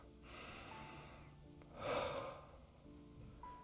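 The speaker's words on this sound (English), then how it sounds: "take a few deep breaths." Deep breaths during seated meditation: a slow inhale and then a fuller, louder exhale, close and soft over a faint steady hum.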